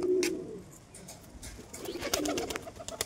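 Giribaj pigeons cooing softly outdoors, low throaty coos repeating over light background noise, with a few brief rustling flutters.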